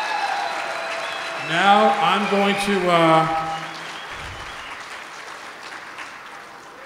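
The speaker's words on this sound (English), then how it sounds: "Let's just have a round of applause for how magical Teddy really was." An audience at a memorial tribute claps in the background while someone speaks loudly over it, and the applause carries on faintly after his voice stops.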